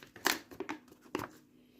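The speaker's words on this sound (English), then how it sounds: "we open the package." A few quick crinkling, tearing bursts of plastic packaging being pulled open by hand, close and fairly quiet, with pauses between.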